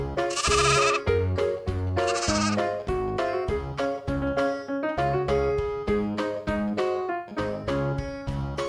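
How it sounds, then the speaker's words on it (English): A sheep bleats twice in quick succession, two loud, raspy cries about a second apart, layered over a lively children's tune with a steady rhythmic beat. "Sheep."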